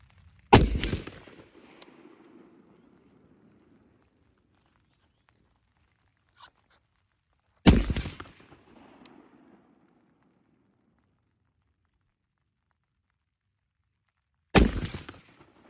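Three sharp rifle gunshots at a rifleman qualification range, each a loud crack with a short rumbling tail, spaced several seconds apart with near silence between them.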